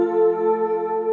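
Four layered synth sounds from the Xenology bank, including an organ-bell transient, ring out together as one sustained, bright bell-like chord with steady tonal harmonics, heard alone for about a second.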